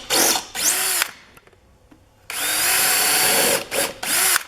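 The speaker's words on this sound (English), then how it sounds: "Drill first." A power drill whirs loudly in several bursts while pre-drilling wood for an Adirondack chair: two short runs, a pause with faint handling noise, then a long sustained run ending in quick stop-start pulses.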